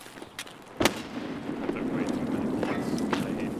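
Frag grenade going off in a combat video game: one sharp, close blast about a second in, then a sustained rumble and scattered distant pops, with faint voices of players underneath.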